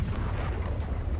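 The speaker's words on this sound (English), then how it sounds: "Calling down a support weapon." A support weapon drop lands in the video game Helldivers 2, heard as a brief, heavy, rumbling boom that fills the moment with low, dense noise.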